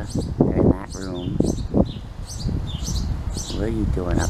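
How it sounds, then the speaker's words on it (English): Pet birds kept by a window in a room chirp and tweet in short, bright bursts, moderately close, mixed with people talking and some rustling. "birds which are in that window area, they're in that room."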